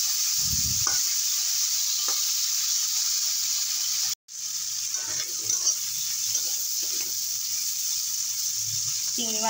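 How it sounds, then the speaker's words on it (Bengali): Prawns fry in a pan with green chillies for a taro-stolon (kochur loti) dish, giving a steady sizzling hiss with a brief cut partway through and a few faint clinks and stirring sounds. "চিংড়ি মাছগুলো ভাজা হয়ে গেছে।"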